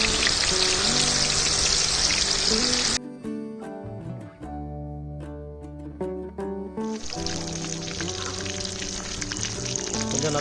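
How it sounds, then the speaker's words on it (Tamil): Chicken 65 dropped into a pan of hot oil for deep frying in an outdoor farm cooking setting, a loud dense sizzle that drops out for a few seconds of clinking and tonal sounds, then returns strongly. "இப்போ நம்ம ப்ரிப்பேர் பண்ணி வச்சுருக்க சிக்கன் 65 எண்ணெய் சட்டியில் போடலாம்."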